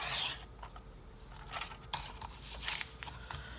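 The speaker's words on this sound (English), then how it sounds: "start cutting these out" Paper sample tags with botanical flower prints being cut out by hand with scissors, giving soft close rustling snips and rubbing scrapes in an irregular rhythm, fairly quiet with no talking.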